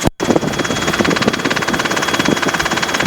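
A Robinson R22 helicopter's engine runs steadily during a training flight, with a continuous loud, close drone and rapid rhythmic rotor pulsing after a brief cutout at the start.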